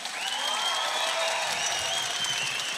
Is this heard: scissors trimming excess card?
no